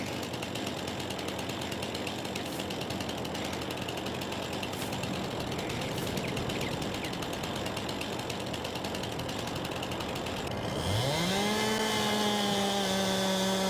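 A chainsaw grinds steadily through trees in a farming video game, a dense continuous buzzing that runs unbroken, then at the end a new engine tone rises sharply and holds as a clean whine.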